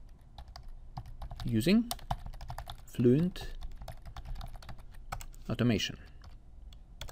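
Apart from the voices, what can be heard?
typing code on a computer keyboard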